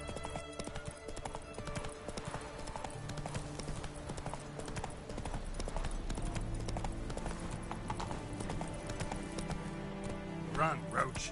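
Roach, the horse in The Witcher 3, gallops with rapid, steady hoofbeats over a game score with low rumbling tones, and someone speaks partway through.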